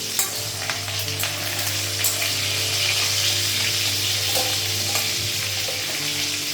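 Fish frying in a pan on a lowered gas flame gives a steady, close sizzle with light crackles and an occasional stir, holding even throughout with no talking.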